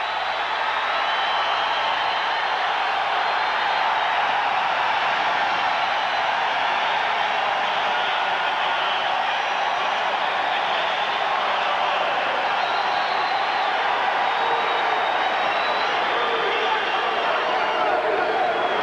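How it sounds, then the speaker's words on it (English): Large arena crowd at a 1991 high school regional championship basketball game, Tennessee against Alabama, roaring in a steady, dense wash of cheering that holds loud and continuous throughout without letup. "Listen to this crowd"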